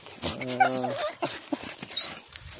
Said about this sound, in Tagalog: dalawang aso ko yan